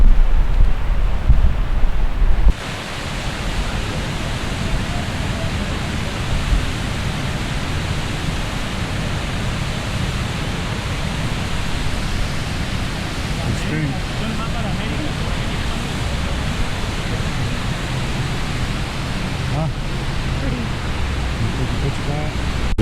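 Gibbon Falls cascade in Yellowstone roars as a loud, steady rush of falling water that fills the whole stretch, with some wind buffeting the microphone and a voice speaking near the start.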